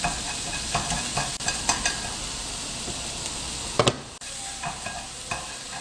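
Beef stir-fried over low heat in a pan with soy sauce and sugar for japchae, a steady gentle sizzle with repeated scraping stirs of a utensil, close and continuous.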